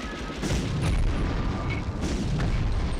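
A grenade blast in the PS1 game Medal of Honor, set in a V2 rocket plant: a loud, dense booming burst that fills the short moment and rumbles on, with no talking over it.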